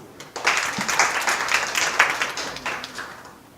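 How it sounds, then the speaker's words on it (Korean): An audience in a lecture hall claps for a talk on machine translation, a dense crowd applause that holds steady for about three seconds and then fades. "박수 부탁드립니다"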